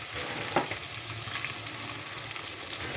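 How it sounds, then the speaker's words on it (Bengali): Sliced raw onions fry in a pan, producing a soft, continuous sizzle with a faint stir or scrape near the start. "আমি পেঁয়াজটা হালকা করে একটু ভেজে নিব"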